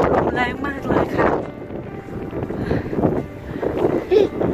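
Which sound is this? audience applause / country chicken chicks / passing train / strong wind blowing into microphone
strong wind blowing into microphone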